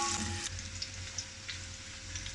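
Onions and slit green chilies fry in oil, giving a quiet, steady sizzle with a few light stirring touches over a short stretch, with no talking.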